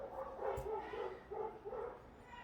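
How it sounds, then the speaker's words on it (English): A dog barks outside through an open door, a short run of muffled, moderately distant yips and barks in quick succession. "so if you hear a bunch of barking in the background,"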